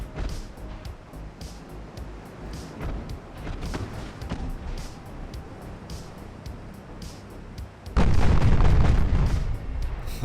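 A warship fires a full broadside in the naval video game Ultimate Admiral: Dreadnoughts, scattered distant booms over ocean ambience building to a loud, dense roar of guns near the end.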